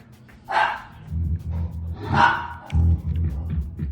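Indoors, a dog barks in a few loud, close bursts with gruff, growly rumbling between them.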